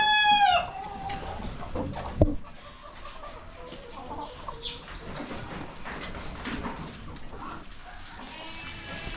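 Chickens clucking and crowing on a farm during morning chores, with a busy mix of bird calls, a brief sharp sound near the start, and steady clucks throughout at moderate distance.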